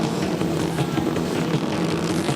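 A 4-stroke Honda motorcycle races on an ice track at a night ice race, its engine droning loud and continuous with a rough, pulsing roar that never lets up.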